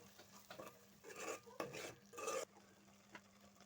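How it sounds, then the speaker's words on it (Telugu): Egg masala curry being stirred in a pan, several short scraping and rubbing strokes of a spoon against the pan, close but faint, with a soft background hum and no talk. "మరొకసారి చక్కగా కలిపేసుకొని"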